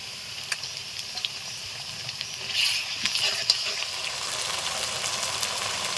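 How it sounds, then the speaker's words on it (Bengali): Onions and ginger-garlic paste frying in a pan for chicken biryani, a continuous hissing sizzle with a few soft stirring scrapes partway through, close and steady. "দু তিন মিনিট মতো পেঁয়াজ ভেজে নিয়েছি দিয়ে দিচ্ছি আদা রসুন বাটা"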